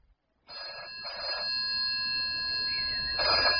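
A telephone rings with repeated electronic trilling bursts over a steady tone, fairly quiet and with no voices.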